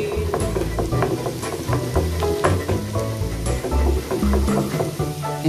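Garlic frying in butter in a pan for tilapia, a close crackling sizzle with stirring clatter and scraping, steady throughout.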